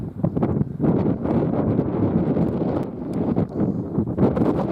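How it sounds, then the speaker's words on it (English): Strong wind in Santorini, Greece, roars and buffets the microphone continuously, loud and gusty throughout with no other clear sounds. "Beautiful, but again, freaking windy. All the beautiful spots are windy."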